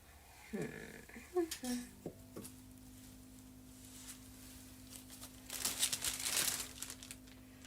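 Plastic bags crumpled while organizing a craft room, scattered crinkles and rustles at close range, louder bursts near the start and again toward the end, with a low steady hum beneath.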